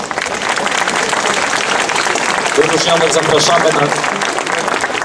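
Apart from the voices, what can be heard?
audience applause at a concert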